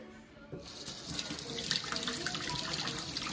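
Water runs steadily from a tap to rinse a coin found with a metal detector, a continuous hiss and splash that starts after a short pause and keeps going.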